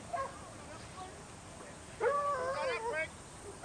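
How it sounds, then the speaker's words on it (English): Huntaway sheepdog barking hard while herding a small mob of six lambs at a rural games sheepdog event, a run of loud calls in the middle of the clip after fainter yips at the start, with outdoor background noise. "So you can hear the Hunterway there going full noise."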